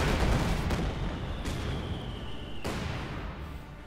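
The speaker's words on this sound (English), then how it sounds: "And the mortars are singing." Mortar fire in the strategy video game Company of Heroes 2, a steady rumbling barrage of booms and blasts with a few sharper impacts, loud and continuous throughout.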